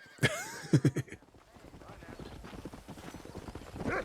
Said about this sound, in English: That's my horsey.